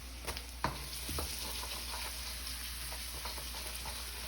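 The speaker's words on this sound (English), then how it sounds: "The whites are what you can go ahead and saute with at high heat." Ginger and scallion whites sauté at high heat for pork fried rice, a low steady sizzle with a few sharp utensil clicks early on, fairly faint and close.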